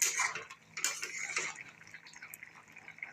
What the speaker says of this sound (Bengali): দেখি ঢাকনাটা উঠে দেখি।